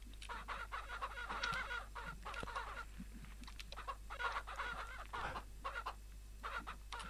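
Farm chickens in the Ranch Simulator video game cluck in repeated short bursts, fairly quiet over a steady low hum, with occasional louder squawks from the flock.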